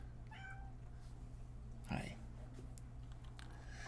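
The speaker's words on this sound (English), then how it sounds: "I've got a kitten who really wants my attention here" A kitten meows briefly and softly up close, near a computer, followed by a single dull knock over a constant low electrical hum.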